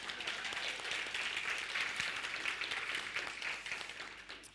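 A conference audience claps after a group song, a dense, even wash of applause that holds steady for several seconds before easing slightly at the end.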